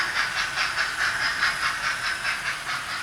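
A Hornby model steam locomotive pulls a mixed rake of wagons, giving a steady rhythmic chuff with a faint hiss, quiet and even, with no talking.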